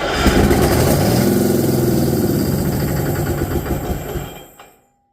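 Detroit Diesel engine on a test run, roaring loud and close with a dense, rough mechanical clatter before cutting off and winding down to silence at the end.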